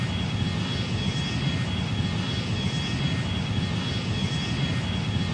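Steady, loud jet engine roar of a Concorde in flight in the Rortos Extreme Landings flight game, a continuous broadband drone with heavy low rumble and no pauses.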